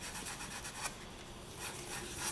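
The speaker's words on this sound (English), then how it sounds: "It's more like I'm scraping rather than actually sanding" A polymer clay shell pendant is lightly scraped with sandpaper, a soft, steady, close rasping rub that continues without pause and without talk.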